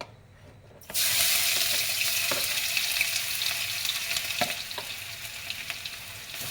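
Garlic paste dropped into hot oil for garlic chicken, starting after a quiet second with a sudden loud burst of sizzling that settles into steady crackling frying with occasional stirring clicks.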